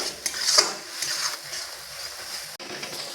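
A utensil stirs turmeric and red chilli powder together in a pan over medium heat for a Bengali steamed-egg kalia, giving soft scraping and light clinks against the pan with a faint sizzle, steady and close, with no talk.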